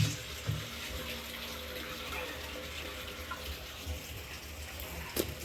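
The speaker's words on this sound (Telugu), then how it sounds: "సరే మోటార్ వేసినాం, నీళ్ళు పట్టాలి." Water gushes from a motor-pumped pipe into a container as a steady, moderately faint splashing flow with a low pump hum, plus a few small knocks and handling sounds.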